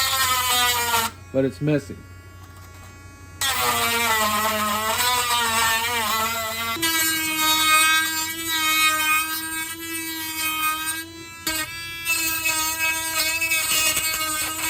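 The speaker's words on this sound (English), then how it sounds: "then we use this Dremel" A Dremel rotary tool whines steadily while sanding paint lines on a Tamiya Hotshot RC car body, its high buzzing tone shifting in pitch, with a person talking over it at times.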